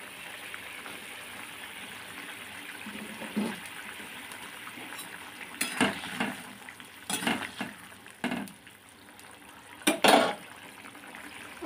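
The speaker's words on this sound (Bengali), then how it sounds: "দেখো সবগুলো বড়া এখন ছেড়ে দিলাম" Chana dal fritters are dropped into a simmering vegetarian curry and stirred, a low bubbling simmer broken by several wet splashing and sloshing bursts, moderately close and quiet.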